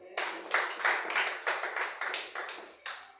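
A church congregation claps in a quick, uneven series of sharp hand claps, about a dozen bursts over a few seconds, close and lively with no talking over them.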